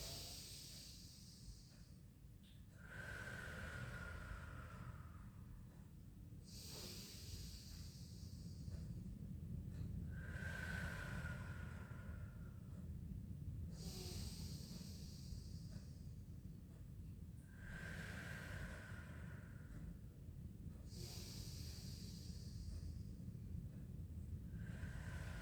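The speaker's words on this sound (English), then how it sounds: "So take some deep breaths in and out." Slow, deep breaths in and out during a pilates stretch class, a steady rhythm of airy inhales and exhales repeating about five times, close and soft with no talking.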